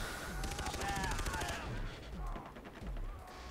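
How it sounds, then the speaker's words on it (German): Machine gun fire rattles from the bushes in Far Cry 3, fast rhythmic bursts of shots at moderate distance over a continuous backdrop of game noise and rumble. "Da ist irgendwo hinten in den Büschen, ist ein MG oder so."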